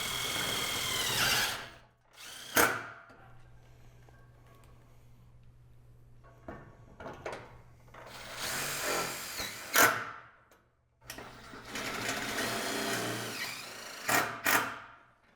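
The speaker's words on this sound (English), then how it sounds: "you're gonna repeat the same process of screwing the wall return to the post." A power drill drives screws to fasten an ADA pipe railing wall return to its post, in several short whirring bursts separated by quiet pauses, with faint handling clicks and a low hum.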